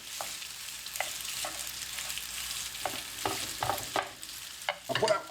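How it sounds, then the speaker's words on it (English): Aldi fajita stir fry ready-to-cook strips frying in a pan, with a steady hiss of sizzling under repeated scrapes and stirring knocks of a utensil against the pan. "all we're doing is frying them, ain't we?"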